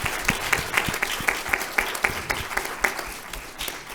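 Conference audience applauding presenters at a women's and gender-diverse housing justice session, a sustained round of many hands clapping with a few sharper individual claps standing out, moderately close and steady throughout.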